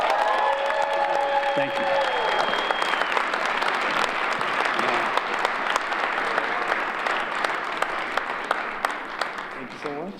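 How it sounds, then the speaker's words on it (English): Sustained audience applause fills a competition hall in Cleveland, a dense steady wash of clapping that runs the whole stretch, with a voice speaking over it near the start. "So let's give it up for Amarelli."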